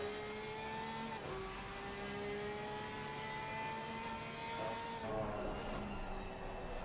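Porsche and Lamborghini GT3 race cars lapping the Nürburgring in a sim racing game, their engines a steady, sustained whine with gently shifting pitch and a brief change around the fifth second, with no talking.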